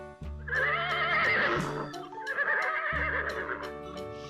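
A horse neighs twice close by, two long, loud, quavering whinnies separated by a short pause.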